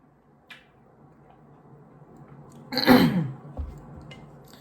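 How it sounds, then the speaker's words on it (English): A single short throat clearing, close and moderately loud, breaks an otherwise near-silent stretch with a faint tick early on. "Why do I keep clearing my throat?"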